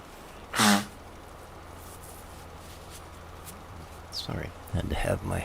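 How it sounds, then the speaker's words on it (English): A single loud, close sneeze bursts out from someone recording at a computer, then a quiet stretch of low background hum before speech resumes. "had to have my recording session sneeze-a-thon"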